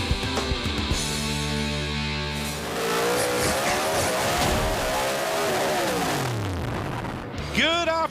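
Formula 4000 open-wheel race cars on the grid at Wakefield Park Raceway, engines droning and revving with sweeping pitch rises, a nearby engine blipping sharply near the end, with voices talking over the continuous noise.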